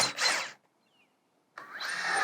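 Screws driven with a power drill through pre-cut holes to tack a greenhouse side vent screen to its frame, with two bursts of whirring separated by a short pause.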